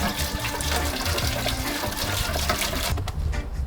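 Water gushes and splashes steadily into a cooking pot, a continuous rushing flow that cuts off near the end.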